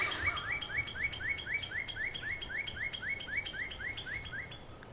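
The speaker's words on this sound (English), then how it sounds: "Blessed we are to hear the birds." Outdoor bird song on a farm: one bird repeats a quick, bright chirping phrase in a steady rhythm, fairly close and clear over a soft background hiss.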